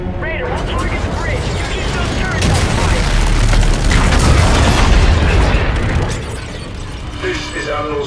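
Heavy weapons fire and booming explosions erupt during a space battle against a supercarrier in Call of Duty: Infinite Warfare, a dense, loud barrage of blasts and rumbling impacts that swells in the middle and eases toward the end, with voices mixed in.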